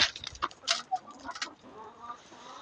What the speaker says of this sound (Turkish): Kazlar ne haber?